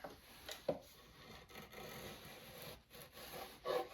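A drawknife shaves wood while shaping a tool handle, giving soft rasping scrapes with a sharper stroke near the start and another at the end, close and fairly quiet.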